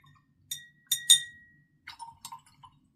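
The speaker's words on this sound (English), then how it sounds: "I'm going to rinse my brush." Paintbrush rinsed in a glass of water during watercolor painting: a few sharp glassy clinks as the brush taps the rim, spaced over a couple of seconds, close and moderately loud with no talk.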